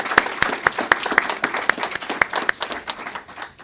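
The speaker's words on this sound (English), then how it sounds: "Let's give all of them a big round of applause" A small audience claps at the reopening of the Green Lake Library Branch, with sparse, distinct hand claps arriving in an uneven rhythm at moderate volume.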